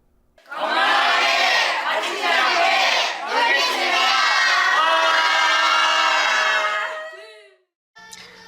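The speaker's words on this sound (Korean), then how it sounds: "어린이 불교학교에 참여한 어린이들이 부처님에게 예불을 올린 후 구호를 외치며" Children at a Buddhist school held at Cheonjinam temple in Jeju shout slogans in unison after worship, a loud, sustained crowd chant with a brief pause midway, ending abruptly before a short final burst.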